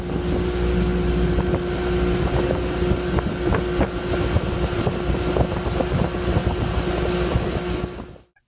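A motorboat cruises steadily at about 20 miles per hour, its engine droning continuously under heavy wind buffeting on the microphone, loud and close until it cuts off abruptly at the end.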